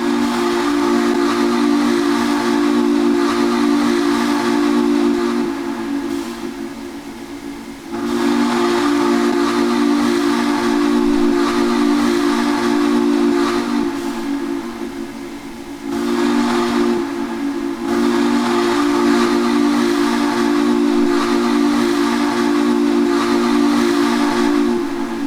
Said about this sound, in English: That is a gorgeous whistle.